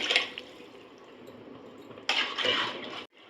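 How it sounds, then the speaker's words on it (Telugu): Water in a cooking pot for egg biryani bubbles and gurgles softly, rising into a louder burst of boiling near the end before cutting off, with no voices. "ఇగండి నీళ్ళు కళబిళక అవుతున్నాయి కదా"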